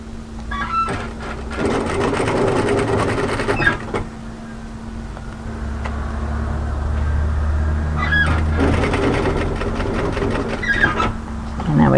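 An overlocker sews a fabric seam up toward the shoulder of a draped tee dress, running loud and close in two long buzzing passes over a steady low hum and background noise.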